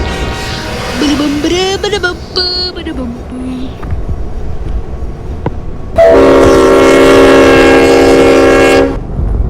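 A train in a video game crashes, with a rumbling, rattling stretch followed by a loud, sustained horn blast of several seconds near the end.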